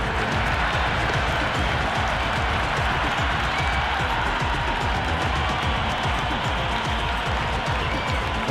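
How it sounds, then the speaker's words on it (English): A dense, roaring cricket crowd in the video game Cricket 26 cheers continuously at a packed ground, loud and sustained with no breaks. "The spectators are absolutely buzzing right now. Huge levels of excitement all round this ground."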